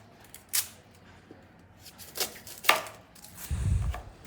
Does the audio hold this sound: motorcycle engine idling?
no